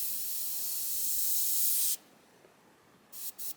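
Infinity CR+ airbrush spraying a line, a steady bright hiss of air for about two seconds that cuts off abruptly, followed by quiet and a few short bursts of spray.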